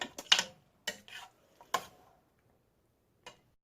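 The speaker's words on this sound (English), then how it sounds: "Okay, so we're stirring this now." Stirring pot pie filling in a pot on the stove: a spoon knocks and scrapes against the pot in several separate close taps, with quiet gaps between them.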